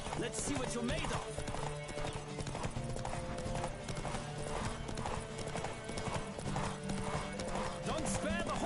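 Galloping horses in a race in The Witcher 3, hooves pounding in a steady rapid clip-clop with occasional whinnies, loud and continuous under game music and shouted voices.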